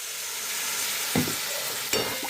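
Frying mango pieces sizzle steadily in a pan, with two sharp bursts of hissing as a little water is poured in over them, near and moderately loud.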